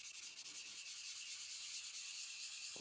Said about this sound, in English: Here, I'll even run the rust eraser over it